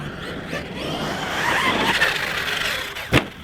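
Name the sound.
HPI Savage X RC car accelerating on 6S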